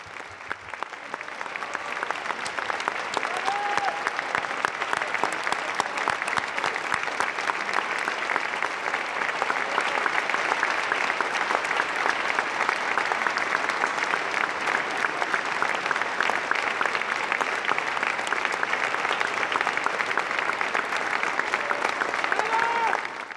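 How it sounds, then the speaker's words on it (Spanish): Steady, sustained applause from a crowd honoring actor Ignacio López Tarso, dense even clapping that holds at an even level for over twenty seconds. "Ahora solo les pido un fuerte aplauso para el primer actor, Ignacio López Tarso."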